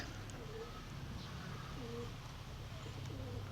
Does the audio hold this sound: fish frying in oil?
no